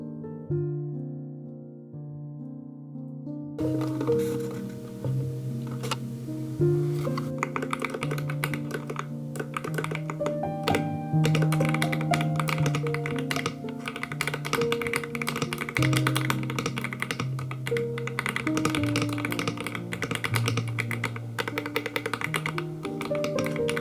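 Steady computer-keyboard typing from someone drafting a cozy fantasy novel, soft key taps running continuously under louder background music for the whole stretch.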